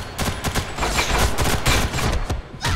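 Rapid gunfire from a Ghost in the Shell: First Assault online shooter match, dense bursts and repeated shots overlapping almost continuously at steady loudness, with no talk.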